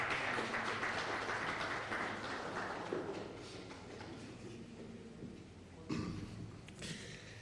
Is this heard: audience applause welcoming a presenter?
yes